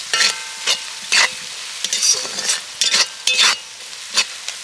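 A spiced mixture is stirred in a pan with a spoon, producing about eight close, loud scraping bursts in an uneven rhythm over a faint background, with no talking.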